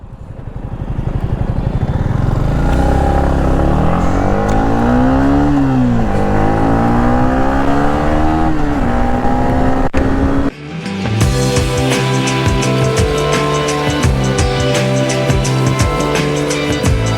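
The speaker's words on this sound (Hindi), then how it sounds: "बट द इंजन स्क्रीम्स यार, टिपिकल यामाहा इंजन" A Yamaha motorcycle engine, a slightly bigger engine, revs loud and close, its pitch climbing and falling in repeated sweeps, then it cuts briefly before settling into a steady, harmonic-rich drone.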